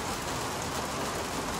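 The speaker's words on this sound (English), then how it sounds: "Can you hear that rain?" Rain falls with a steady, dense hiss around a parked hire bike, even and continuous, with no talking.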